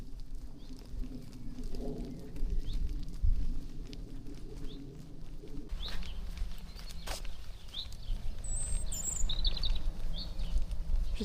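Birds call and chirp in short scattered bursts around a quiet canal village in Giethoorn, Netherlands, heard over a steady low outdoor rumble with faint rolling noise; a brief coo-like note fits a pigeon or dove.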